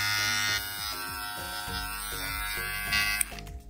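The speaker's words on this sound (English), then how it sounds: "Bloody hell, it's louder than normal clippers." Cordless VGR Navigator V-030 electric T-liner hair clippers run with a loud, steady high-pitched buzz that wavers slightly in tone as they work, then cuts off near the end.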